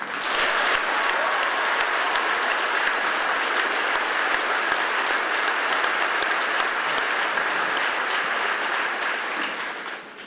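Sustained crowd applause at an Army basic combat training graduation ceremony, honoring the drill sergeants; dense, steady clapping from a large audience that holds for about ten seconds before tapering slightly at the end.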